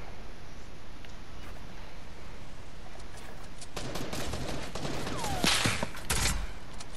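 Video game gunfire during a battle-royale match: a run of sharp shots and bursts, sparse early then denser and louder toward the end, heard without speech.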